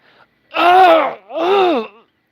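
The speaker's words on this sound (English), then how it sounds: "He let out a gasping sound of agony." A voice lets out two strained, drawn-out gasping groans of pain, loud and close, with a brief pause between them.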